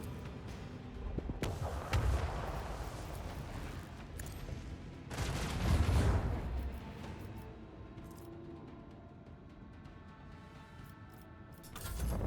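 Ship weapons fire in the Warhammer 40k Rogue Trader video game: two heavy booming volleys, one early and a larger one midway, each trailing into a rumbling decay over a low ambient background, with no speech.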